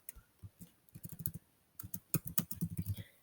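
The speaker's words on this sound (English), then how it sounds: "right here I'm going to type square root." Typing on a computer keyboard while entering text in OneNote: quick bursts of close key clicks in two runs separated by a brief pause, with no talking.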